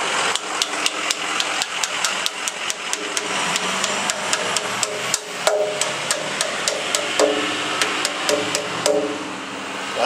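A screwdriver lightly tapping chrome trim onto an old Honda fuel tank, a steady series of sharp metallic taps close by, repeating at an even pace over a low background hum.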